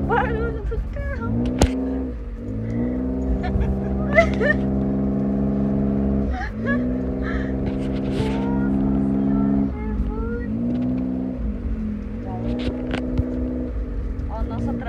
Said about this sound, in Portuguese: Olha o barulho do carro.